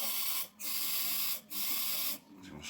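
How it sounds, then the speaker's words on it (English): Electrical contact cleaner sprayed from an aerosol can into the lid of a Logitech G29 wheel's potentiometer housing: three sustained hissing bursts with short pauses between them, close and fairly quiet, no talking. "So you want to spray it into the lid like that"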